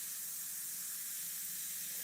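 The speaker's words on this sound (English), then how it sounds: "I'll just lightly spray it right now." A spray bottle lightly misting paint onto a canvas while painting flames gives a soft, continuous hiss that stays faint and even for about two seconds.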